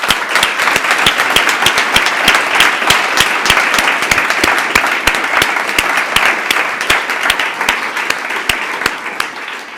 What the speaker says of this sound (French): j'aimerais qu'elles soient applaudies comme il se doit